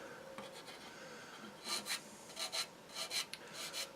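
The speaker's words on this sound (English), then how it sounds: "Oh man, new sanding stick. Sands so much more efficiently." Rhythmic scratchy rasping as a sanding stick is rubbed back and forth over the hard plastic of a Tamiya Calsonic Skyline model kit, removing seam lines in short repeated strokes, close up.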